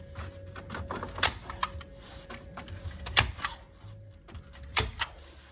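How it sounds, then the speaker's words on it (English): A staple gun fires staples to fasten insulation to a barn ceiling: several sharp, close snaps spaced irregularly, with softer clicks and handling rustle between them and a faint steady hum behind. "what makes this gun really nice is you can kind of see the staple. It puts it in, but it doesn't push it through"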